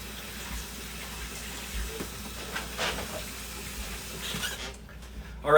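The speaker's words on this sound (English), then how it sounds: "you run it directly under cold water to kind of make sure that it stops the cooking process" Cold tap water runs steadily over cooked pho noodles in a kitchen sink, a continuous close hiss and splash at moderate level with faint clatter, ending in a louder knock.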